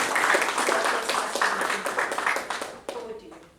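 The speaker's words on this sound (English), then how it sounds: "So let us applaud our speaker." An audience at a Toastmasters club meeting applauds the speaker: a burst of many hands clapping, dense and steady, fading toward the end, with a voice speaking briefly near the close.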